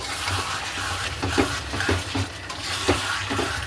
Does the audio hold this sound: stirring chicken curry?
yes